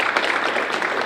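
An audience applauds the mayor at a 2021 State of the City event, a steady, dense wash of many hands clapping through a short stretch.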